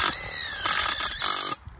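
A power drill drives a self-tapping screw into steel tubing while a light-deprivation carport frame is assembled: a steady high whine lasting about a second and a half, rising in bursts before it cuts off, close and loud.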